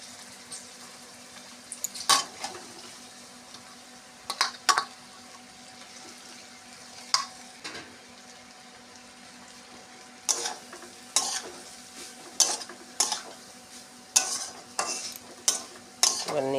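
Carrots and fried peas cooked with spices are stirred in a pan, making repeated sharp scraping strokes at an uneven rhythm over a soft frying sizzle, with no talking.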